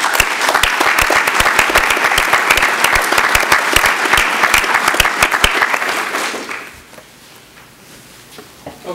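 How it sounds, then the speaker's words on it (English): Audience at a Shaftsbury town meeting applauds loudly and steadily for about six seconds, with distinct sharp claps standing out, then the clapping fades to a quiet room with a few scattered claps. "I think it would be great if we gave them all a round of applause."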